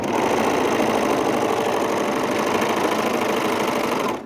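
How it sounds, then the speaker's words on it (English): An overlocker sewing machine runs continuously while stitching the seams of a pair of pants, a loud, steady, rapid mechanical whirring that stops abruptly at the end. "Whilst I'm at the machine and I'm making any sort of pants with an overlocker"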